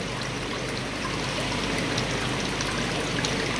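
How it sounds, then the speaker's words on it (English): A pump pours fresh water into a koi fry tank, a constant, dense splashing and trickling rush that stays steady and fairly loud throughout, alone with no voices. "so it's pumping fresh water in, so it's water changing inside the net all the time"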